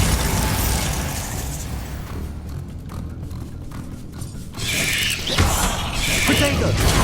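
A Bombarda spell explosion in Hogwarts Legacy, with two broadband blasts in the second half that swell loudly over a steady mechanical game rumble.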